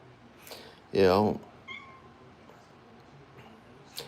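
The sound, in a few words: cat meowing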